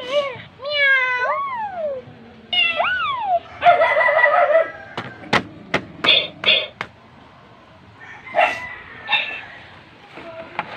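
A series of bright, electronic-sounding meows from a Talking Tom toy cat repeat in quick succession, toy-like and pitched, followed by short chirps and clicks, with brief talk near the end.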